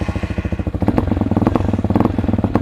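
An Amazon Hawk DLX off-road motorcycle engine fires up and settles into a rapid, loud, close-up putter of pulsing exhaust beats, alone without talk.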